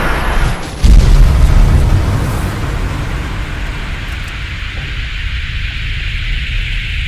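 A cannon blast in a Fallout audio drama: one sharp, heavy boom lands near the start and rolls into a long, broad rumble that fades slowly over several seconds.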